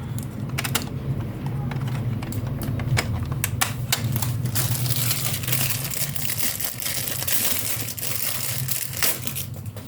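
An Epson L120 inkjet printer running but failing to feed paper gives off rapid irregular clicking and ratcheting mechanism sounds over a constant low motor hum, close up, with no talking.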